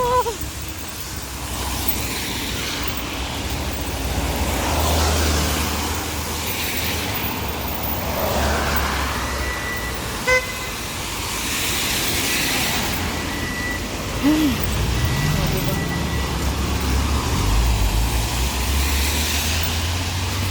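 Cars pass quickly along a rain-soaked road in Kuwait on a wet morning, their tyres hissing over the wet surface in a steady traffic wash with several louder swells as vehicles go by nearby.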